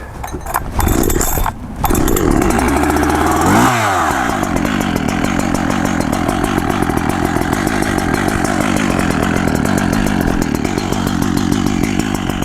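A chainsaw engine started and revved hard with a brief sputter, then settling into a loud, close, steady rattling idle to warm up.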